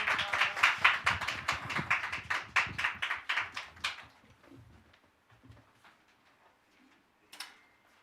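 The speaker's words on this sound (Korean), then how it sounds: "각자의 자리에서 박수로 목사님 맞이하겠습니다" A small church youth-service congregation claps to welcome a pastor, a short run of sparse, distinct hand claps that thins out and fades to scattered taps and near silence.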